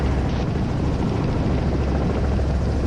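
A training helicopter from a flight school hovers near a runway, its engine and rotor giving a loud, steady, close drone with a constant low-pitched rumble throughout.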